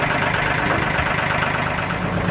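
A diesel tractor engine idles steadily nearby, a constant low rumbling chug with no talking over it.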